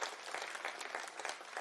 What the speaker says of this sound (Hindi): उन सब के लिए एक बार जोरदार तालियों से मैं स्वागत करना चाहूंगा।